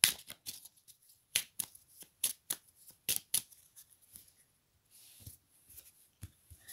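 Tarot cards are shuffled close up in quick rhythmic riffles and soft slaps, one burst after another, in a quiet room with no talking.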